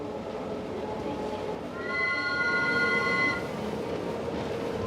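A 19th-century historical train in Turin, still unchanged, runs with a steady close rumble, and a bright metallic squeal rises for about a second and a half midway before fading back into the rolling noise.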